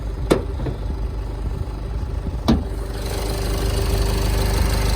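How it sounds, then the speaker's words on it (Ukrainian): A 2013 Renault Koleos 2.0 diesel engine idles with a steady, low rumble and a slightly knocking texture, with two sharp clicks early on, continuing evenly throughout. "Мотор працює рівно."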